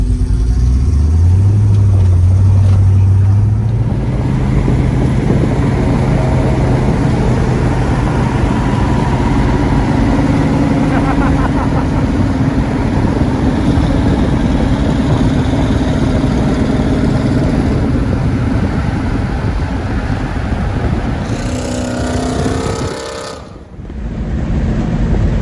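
A Pontiac GTO's engine runs steadily throughout, a low mid-range drone with a rising rev near the start, continuing loud and close before tapering off near the end.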